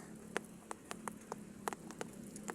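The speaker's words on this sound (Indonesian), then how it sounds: "hanya berteduh saja dari hujan" Rain falls with scattered drops pattering sharply against a surface over a low steady hiss, faint and with no talking.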